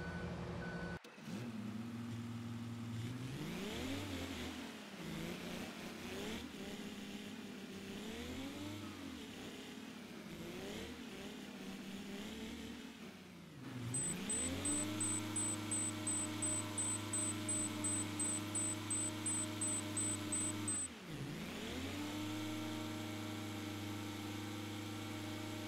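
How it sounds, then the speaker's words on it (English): A road roller engine in Farming Simulator 22 drones steadily as the machine drives, its pitch rising and falling with the throttle, and a run of reversing beeps repeats through the middle stretch. "we'll get the roller onto this now"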